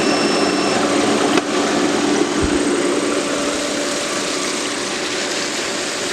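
Intex sand filter pool pump with a chlorine converter running on boost, a loud, steady droning whir with a constant hiss, heard up close and unbroken apart from a faint knock.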